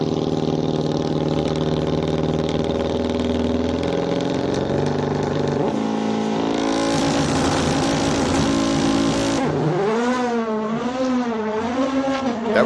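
A race car climbs the SIMOLA hill climb course during 2023 King of the Hill qualifying. Its loud engine howls steadily, shifts gears and climbs in pitch, then warbles as the revs rise and fall near the end.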